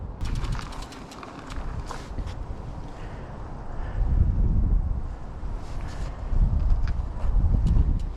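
Wind buffets a microphone along the Lake Dunstan bike trail with low rumbling gusts that swell and fade, loudest in the second half, over a faint outdoor hiss.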